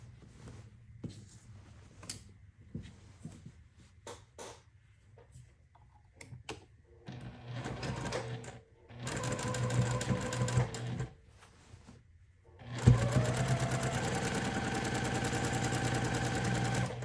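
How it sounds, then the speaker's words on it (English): A home sewing machine stitches a quilt in bursts, first with quiet handling and rustling, then a short run of steady mechanical whirring, and finally a loud, continuous stitching run near the end. "Let's sew just a little bit further and let me check my stitches"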